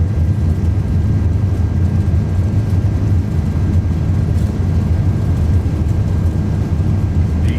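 Twin jet engines of an iniBuilds A330 airliner spooled up during the takeoff roll in Microsoft Flight Simulator 2024, a loud, steady, broad roar with deep rumble that holds constant throughout without letting up.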